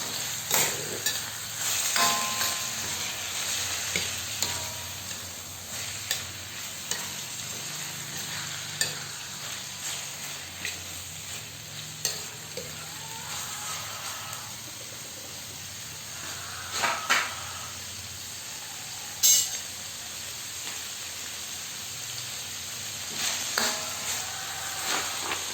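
Sliced Baguio beans and carrots are stirred in a hot pan, with a steady sizzle and frying hiss under scattered scraping and clinking strokes of a utensil, close up and with no talking.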